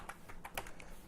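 A short run of typing on a computer keyboard as a PowerShell command is entered: several close, distinct key clicks in an uneven rhythm, with no talking.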